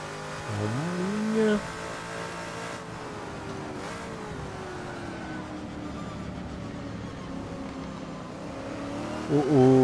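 Race cars lap a track in the Assetto Corsa racing game with twenty cars on the circuit, engines whining and rising through gear changes, with several cars passing close and loud, under steady commentary.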